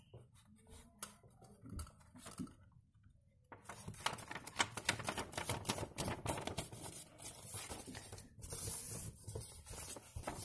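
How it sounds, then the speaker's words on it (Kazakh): Sheets of A4 paper being folded by hand to make a notebook, a quiet opening of faint rustles giving way after a few seconds to steady, close crinkling and creasing that continues without pause. "Былай қарай бүктейміз."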